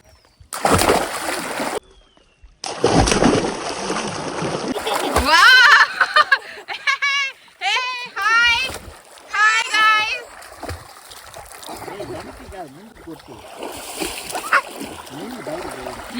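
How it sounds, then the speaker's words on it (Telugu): Children swimming and splashing in water during a summer family outing, loud splashes and thrashing near the start, then excited children's voices and talk over intermittent splashing. "ఈత కొట్టురా. అది ఈత."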